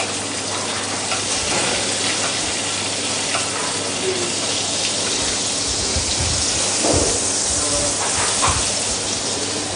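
Steady loud sizzle of a sauce made with sweet Saint-Malo butter frying in a pan as it is stirred, a continuous crackling hiss with soft scraping bumps and faint voices underneath.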